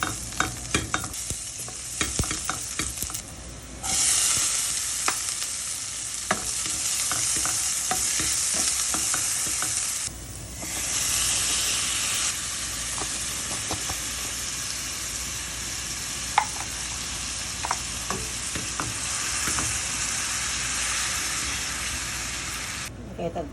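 Corned beef and potatoes fry in a pan with a steady, close sizzle and frequent scraping stirs, the hiss briefly dropping and returning a few times across the stretch.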